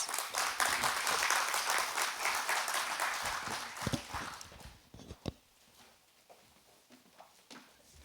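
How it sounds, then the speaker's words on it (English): An audience claps loudly at the opening of the University of Trinidad and Tobago's School of Business. The dense applause holds for about four seconds, then thins to a few scattered claps. "Please give him a round of applause."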